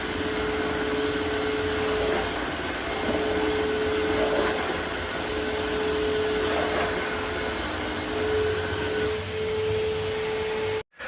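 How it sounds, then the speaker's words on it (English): Tineco Floor One S2 wet vacuum mopping apartment floors, running as a loud steady motor whine with a sustained tone close by, stopping abruptly at the end. "The rest of these floors didn't really need a mopping too much, but I'm just going through them real quick"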